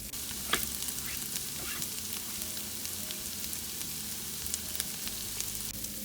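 Corn kernels frying in a pan over medium-high heat give a steady soft sizzle. Scattered pops and spatters rise from it as they brown, with no talking.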